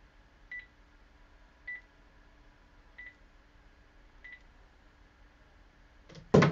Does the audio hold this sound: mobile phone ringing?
yes